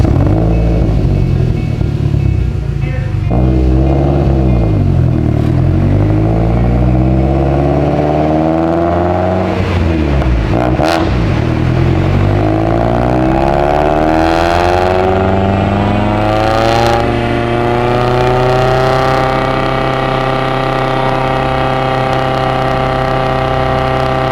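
A stock-engine Mitsubishi Evo X running about 40 psi of boost revs on a dyno, its engine pitch sweeping up and down through repeated loud, close throttle blips and swells before settling into a sustained high drone, with no talk.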